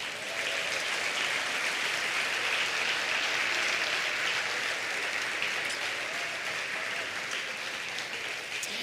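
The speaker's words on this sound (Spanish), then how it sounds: "Dale un aplauso al Señor." A church congregation bursts into sustained applause during a Spanish-language sermon, a steady, dense wash of clapping that holds at full strength for nearly nine seconds with no talk over it.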